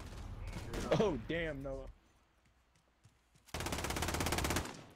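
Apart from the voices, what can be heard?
gunfire in Call of Duty video game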